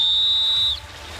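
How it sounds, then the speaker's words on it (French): A single sharp, high whistle blast in a video-game island survival setting, held steadily for under a second and then cut off, loud and close. "Sifflet pour Lucas."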